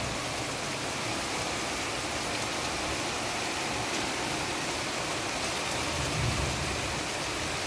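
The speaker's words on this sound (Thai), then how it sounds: "ตกหนักตกแน่นมืดตึ๊บเลยตกนิ่งๆแต่เม็ดฝนหนาแน่นมาก" Steady, dense downpour of heavy rain in Bangkok, a constant broadband hiss with no pauses and no voices, close and loud throughout.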